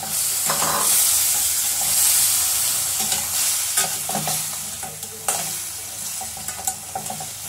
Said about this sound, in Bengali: কাঁকড়াগুলো ভালো করে মশলার সাথে মিশিয়ে দিন